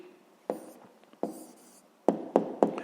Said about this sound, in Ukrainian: Певно, пишемо відповідь.